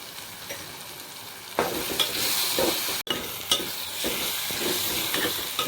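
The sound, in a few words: onions frying and being stirred with turmeric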